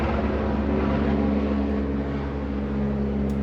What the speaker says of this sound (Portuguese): Tem um helicóptero por aqui por cima.